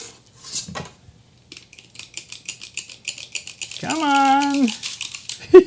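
Gluten-free pizza bun dough is scooped from a bowl onto a parchment-lined baking sheet, with a run of light metallic clinks and scrapes from a spoon, and a person speaking briefly partway through.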